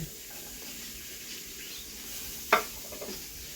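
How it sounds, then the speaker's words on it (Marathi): Onion and garlic fry quietly in oil, a soft, low sizzle over a faint hiss, broken by one sharp utensil clack and a couple of lighter taps near the end. "आता मी कांदा भाजते आणि लसूण"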